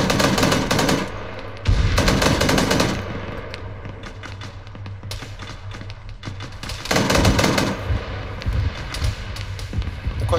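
Automatic gunfire in the ArmA 3 video game during a night mission, heavy bursts of rapid shots with loud opening and closing volleys and steadier firing in between.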